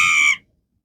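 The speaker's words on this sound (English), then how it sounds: "What is that scream?" A sharp, high-pitched scream with a strong steady tone, loud and close, lasting about a third of a second before cutting off abruptly to silence.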